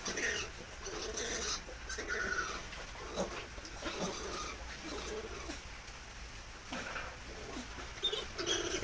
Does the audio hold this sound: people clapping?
no